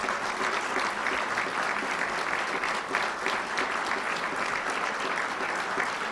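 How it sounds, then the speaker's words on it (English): Sustained applause from an audience at a National Press Club luncheon after a speaker's talk: a dense, steady clatter of many clapping hands, fairly loud and even throughout, with no voices over it. "How about a round of applause for our speaker today?"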